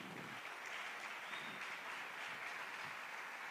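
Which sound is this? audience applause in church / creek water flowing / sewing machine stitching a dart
audience applause in church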